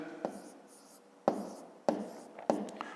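A pen writes numbers by hand for a fifth-grade long-division exercise, giving four or five short, crisp scratching strokes, close and quiet, spaced about half a second apart.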